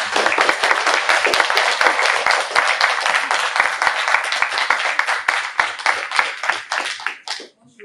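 A lecture-hall audience at a student novel prize event applauds, with dense, steady clapping from many hands that carries on loudly and then thins and fades away over the last second.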